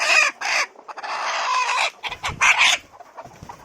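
Several free-range village chickens cluck close by in quick, overlapping bursts, loud and lively with short pauses between calls.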